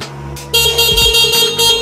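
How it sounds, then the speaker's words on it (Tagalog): A loud electronic horn on an electric scooter honks in two or three bursts from close by, with a low hum underneath between the blasts. "Busina."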